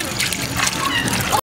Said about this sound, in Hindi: फिर गुस्से में आए 10 किलो लाल टमाटरों को पानी में डुबकी लगवाकर शांत किया।